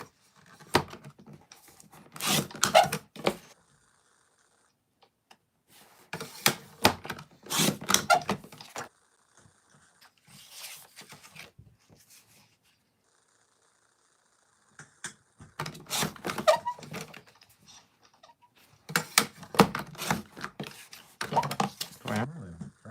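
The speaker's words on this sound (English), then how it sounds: "So it's easier just to cut out little placeholders." White paper is cut into small placeholders in bursts of crisp snipping and rustling, separated by quiet pauses, close and moderately loud, with a little faint talk between.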